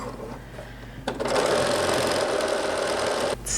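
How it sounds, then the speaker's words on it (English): A sewing machine runs steadily for about two seconds as it stitches a small curved edge of mostly cotton knit fabric, starting after a quiet pause and stopping abruptly, close and fairly loud. "just going to sew this little curved edge together"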